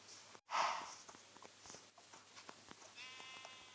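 Sheep bleating in the Minecraft video game, a few distinct bleats, the first loud and close, the others fainter among soft footsteps and game noise.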